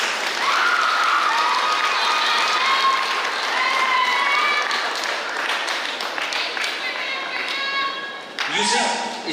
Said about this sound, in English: Once again, can we have a round of applause for our graduates?